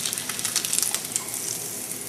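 Bacon sizzling in a skillet, a steady crackling hiss with scattered pops, moderately loud and close, with no talking.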